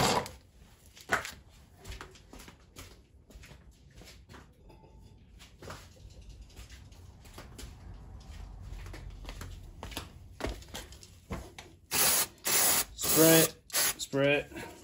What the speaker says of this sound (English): Spray it clean.